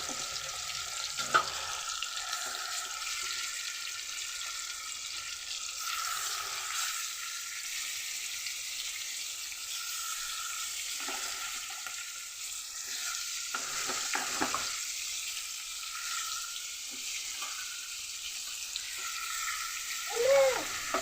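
Pieces of rooster (a fighting cock) marinated in turmeric, salt, chili, lemon juice and ginger-garlic paste frying in hot oil, a steady close sizzle with occasional stirring scrapes and no talk.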